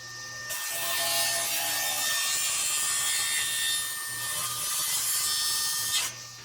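A saw makes plunge cuts into MDF with a steady, close, abrasive cutting and rasping sound that runs for several seconds before stopping.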